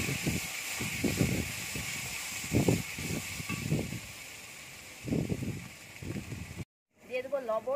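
Mustard oil sizzles in a hot kadai with dried chili, boiled egg and dal added, a steady hiss running under a voice talking nearby.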